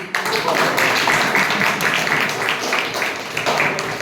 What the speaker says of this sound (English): Can we have a round of applause for Vishu?